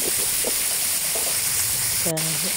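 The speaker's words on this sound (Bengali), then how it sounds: "কড়াইতে করে সয়াবিন তেল দিয়ে পুঁটি মাছটা ভেজে নিচ্ছি।" Puti fish fry in soybean oil in a wok with a steady, close hiss and sizzle, joined near the end by a brief clatter of stirring.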